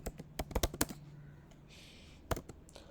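Typing on a computer keyboard during work in a cloud shell, a quick burst of close key clicks followed by a pause and then a couple of final keystrokes.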